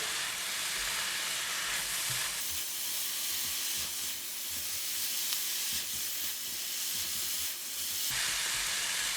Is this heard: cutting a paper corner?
no